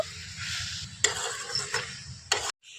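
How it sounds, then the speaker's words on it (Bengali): Kashmiri chili stirred into a tomato pickle cooking in a pan: a bright sizzle runs throughout, broken by a few scraping stirs and utensil knocks, before cutting off abruptly near the end; no voices. "আর দিয়ে দিচ্ছি এখানে কাশ্মীরি লঙ্কা এখন এইভাবে একটু নাড়াচাড়া করে নেব"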